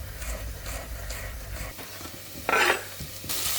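Onions and chopped garlic fry in a pan, a low sizzle under a few stirring scrapes and a short clink of utensils on cookware, close by, with no talking.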